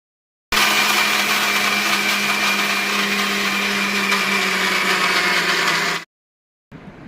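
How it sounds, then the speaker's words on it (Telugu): A mixer grinder whirs loudly and steadily for about five seconds as it grinds fried coconut for coconut laddu, then stops abruptly, followed by a brief quieter burst of sound. "వేపుకున్నాక కొంచెం గోలినాక ఇట్లా మిక్సీ పట్టుకోవాలి"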